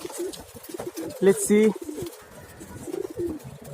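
White Kagzi pigeons coo in short, throaty, low phrases, a few near calls standing out around the middle, while someone talks briefly nearby.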